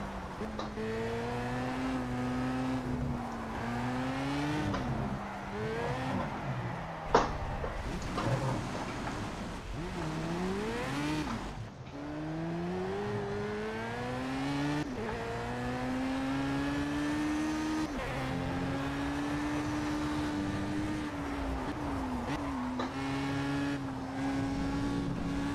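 An Audi in the Project Cars racing game spins out while still in fourth gear, its engine droning continuously with repeated rising and falling revs and faint tire noise throughout.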